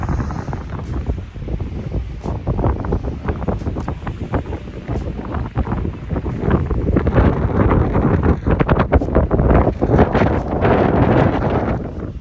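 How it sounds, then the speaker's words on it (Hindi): Strong wind buffets the microphone continuously in the hills around Dalhousie and Khajjiar during light rain, a loud, dense roar with gusty crackling throughout and no voices. "बारिश हो रही है हल्की बहुत और बहुत तेज़ हवा चल रही है."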